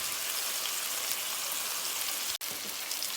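Steak searing hard in a hot pan, a steady, dense sizzle filling the whole stretch with a brief dropout near the end, no voices over it.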